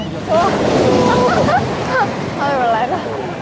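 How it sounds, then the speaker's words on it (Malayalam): Sea waves wash onto the beach at Varkala near a floating bridge, a loud, close roar of surf with wind, while voices call out and shout over the rushing water. "ഇനി ഒരു വലിയ തിരയും കൂടെ നമ്മൾ പോകും"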